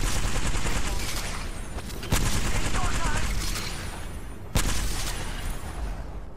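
Rapid automatic gunfire in an Apex Legends match, loud and close, with sustained bursts, a couple of sharp heavy blasts and some faint game voices underneath.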